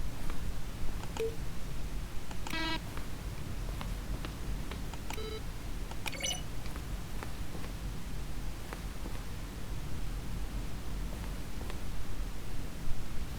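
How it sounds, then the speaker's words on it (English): Button-press sounds from the video game The Stanley Parable, each a keyboard stroke mixed with a synthesized tone, come as several separate short beeps and clicks spaced out over a steady low hiss. "A selection of the sounds used throughout the game when buttons are pressed. Each sound is a mix of a keyboard stroke and synthesized tone."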